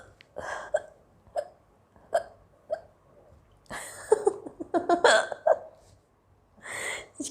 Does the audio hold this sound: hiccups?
yes